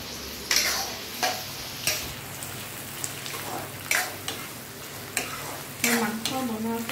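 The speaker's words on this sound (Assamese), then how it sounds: "পিঁয়াজখিনি ভাজি অলপ ৰঙচুৱা কৰি লওঁ" Onions frying in a pan for a chicken curry, with a steady close sizzle broken by periodic scraping strokes of a spoon stirring, roughly once a second, with no talking.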